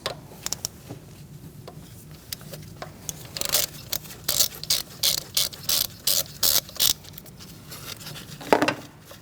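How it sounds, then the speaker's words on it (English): A ratchet with a 10mm socket undoes a bolt on a 2016-2019 Chevrolet Cruze 1.4L engine, clicking close by in a run of about eight bursts of rapid ticks in steady rhythm, with no talk. "Now we're going to use a 10mm socket and undo that bolt."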